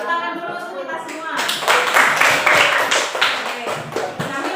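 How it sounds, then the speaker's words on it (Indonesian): Group clapping from students in a classroom after a presentation, a dense burst of hand claps starting about a second in and continuing steadily at close range, with a voice speaking briefly at the start. "kita beri tepuk tangan dulu untuk kita semua"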